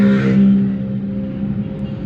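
A car being steered through a U-turn runs with a steady low engine hum inside the cabin, a brief louder whine at the start easing into a smooth idle-like drone.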